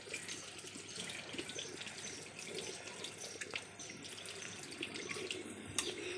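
A water tap runs steadily into a sink while a child's face is washed, a continuous soft gush with small splashes, close but fairly quiet.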